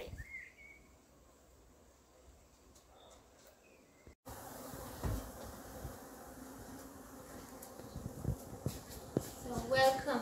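Honey bees buzz around the beehives of a Slovenian apiary, a steady low drone that grows fuller after a sudden jump in level partway through, with some faint chirps and soft noises around it.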